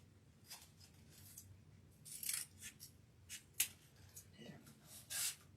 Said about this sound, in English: Must be my good scissors,